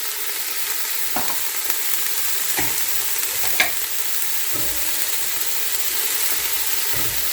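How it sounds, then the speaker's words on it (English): Food sautéing in a pan with chicken stock over lowered heat gives a steady, even sizzle, broken every second or so by soft utensil scrapes and taps, with no voices. "So I will lower the heat and just let that saute."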